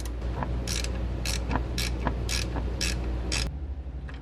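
A ratchet works loose the bracket bolts holding brake lines to the differential on a 2014–2018 Chevrolet Silverado truck. Six quick, regular clicking bursts play close up over a low hum, then stop.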